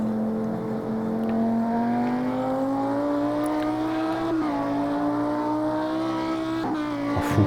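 A race car accelerates at full throttle downhill through the Fuchsröhre on the Nürburgring Nordschleife, its engine note climbing steadily and loud and close, with a brief dip around the middle before it pulls on again.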